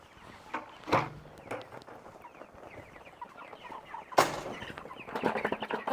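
Several chickens cluck and murmur nearby in scattered bursts, with a few louder squawks and faint shuffling between them.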